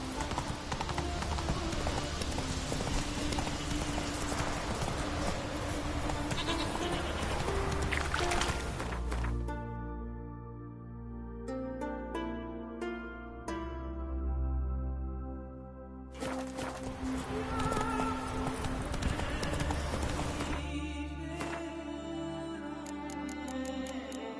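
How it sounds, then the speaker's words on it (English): Hooves of the horse Roach clip-clop in The Witcher 3, trotting in a steady rhythm with game ambience and music; the hoofbeats pause briefly midway and then resume. "Come on, Roach. Giddy up."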